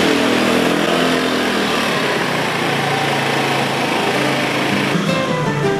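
A motorcycle engine runs steadily and loudly throughout, with a buzzing, high-revving drone and no break in sound, as a mobile nail technician rides to home visits in Taitung, Taiwan.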